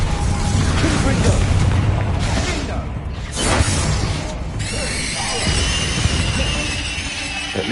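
Loud, dense explosive crashes and booms from a Confringo blasting spell in Hogwarts Legacy fill the scene with continuous crackling debris, and voices can be heard underneath.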